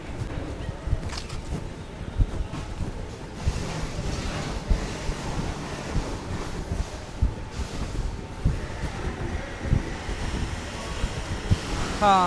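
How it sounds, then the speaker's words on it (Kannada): Wind sweeps across a wide open yard at a bus body manufacturing site in Goa, a steady, fairly loud rushing roar that buffets the microphone throughout with a few gusty surges. "ಈ ಕಡೆ ಬರುವಂತಹ ಗಾಳಿ ನೋಡಿ ಎಷ್ಟು ಚೆನ್ನಾಗಿದೆ"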